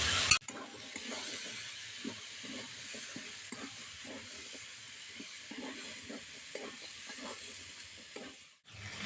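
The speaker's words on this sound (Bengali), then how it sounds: "জলটা দিয়ে নিই" Chickpeas and paneer cooking in a hot pan, giving a steady broad sizzle and hiss with stirring scrapes throughout, close and continuous, then cutting off abruptly near the end.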